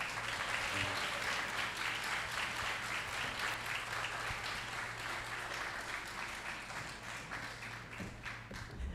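Graduation ceremony crowd applauding, a sustained dense rattle of clapping heard from some distance, fairly quiet over a low steady hum.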